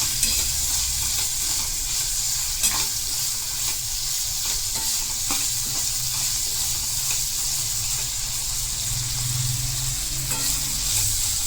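Green chillies frying in spices, a dense, continuous loud sizzle close up, with occasional stirring clicks and scrapes and a watery bubbling undertone, no voices.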